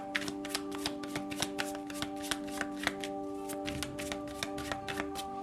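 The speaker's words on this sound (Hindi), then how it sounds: "शफल कर लेते हैं कार्ड्स को ऑप्शन 1 के लिए" Tarot cards are shuffled by hand in a continuous, close riffling patter of quick soft flicks, running throughout over faint steady background tones with no speech.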